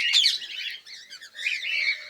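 Cockatiels chirp in an aviary at a bird sanctuary, a dense run of close, bright tweets and calls that keeps going with short dips through the whole stretch.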